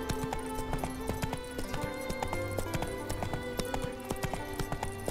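Hooves of the horse Roach in The Witcher 3, a steady rhythmic clip-clop of galloping or trotting that runs throughout over game music, with a brief whinny.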